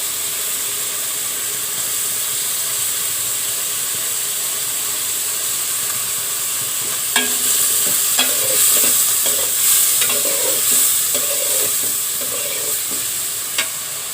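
Onions frying in oil in a pan for a prawn curry, a constant loud sizzle and hiss, joined midway by scraping and clinking as the spatula stirs them; no speech.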